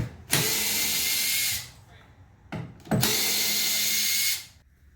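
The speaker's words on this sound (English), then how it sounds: "There's 16 screws to take off the back deck, all along here." A power drill backing screws out of the rear deck of a Sea-Doo Spark 2-up watercraft: two loud, close whirring bursts, each lasting over a second, separated by a short pause.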